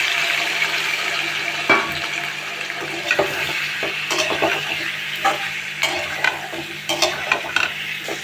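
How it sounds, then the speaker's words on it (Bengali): Potatoes and chicken meat sizzle in hot oil with cumin, a steady crackling fry broken by occasional stirring clatters and scrapes from a utensil. "এবার কেটে ধুয়ে রাখা মাংসর আলুগুলো এই তেলের ভিতরে সব দিয়ে দেব।"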